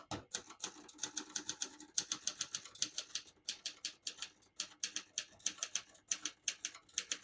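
Steady typing on a 1969 Adler Tippa S ultra-portable manual typewriter, a rapid run of sharp mechanical key strikes with brief pauses between bursts, close and clear with no voices.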